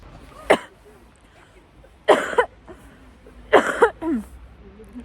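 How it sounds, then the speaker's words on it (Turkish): Three separate coughs, close and sharp, spaced a second or two apart over a quiet background. "bir öksürük"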